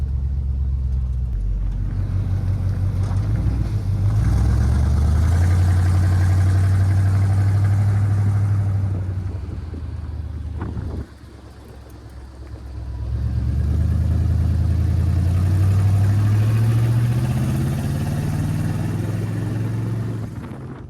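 A 1970 GMC C-15 pickup engine fitted with a cheap Edelbrock carburetor runs with a loud, steady rumble close by, dips briefly midway, then revs back up and holds a rising drone.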